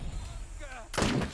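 A precision shot fired in the post-apocalyptic game Wasteland 3 lands as one loud, close burst of gunfire near the end, after a stretch of game ambience.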